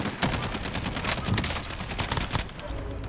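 Dense automatic and rapid gunfire rattles without a break in a Call of Duty Warzone battle royale match, loud and close, with a faint voice beneath.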